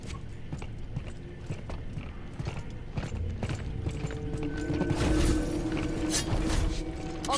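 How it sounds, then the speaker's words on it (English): Elevator machinery in The Callisto Protocol grinds and clanks with rattling mechanical ratchets and creaks, a steady dense churn that swells louder and heavier toward the end, with no talking. "I'll get the elevator."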